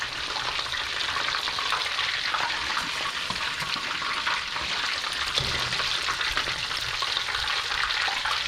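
Korean-style chicken deep frying in hot oil, a dense, steady hiss and bubbling crackle heard up close and unbroken for the whole stretch, with no talking.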